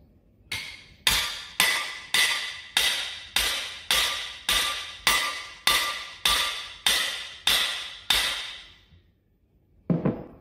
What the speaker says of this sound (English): with my trusty hammer, hopefully just bump it into place